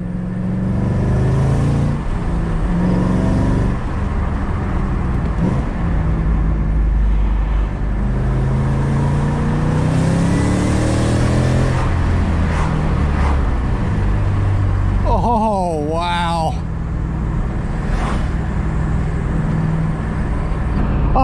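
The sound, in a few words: 2008 Shelby GT500 revving with Lethal Performance H-pipe exhaust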